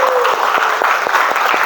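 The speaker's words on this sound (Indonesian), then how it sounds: "kita berikan tepuk tangan untuk kelompok yang sudah maju" Classroom applause for a student group that has just presented, loud close clapping from many hands in a steady rapid patter, brief and alone.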